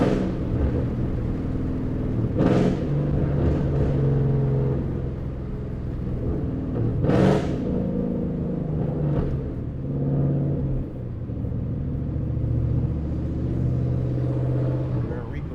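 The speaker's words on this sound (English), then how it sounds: "Downshifts." A Ford Mustang GT engine rumbles steadily from inside the car, with two sharp rev blips as it downshifts, loud and close.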